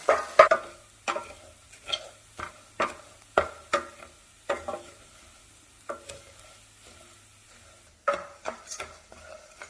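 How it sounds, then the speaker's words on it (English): Rice toasting in a pan over medium-low heat, a spoon scraping and stirring in irregular close strokes while a faint sizzle runs beneath, with no talking. "I'm going to toast the rice over a medium-low heat until it's golden brown and aromatic."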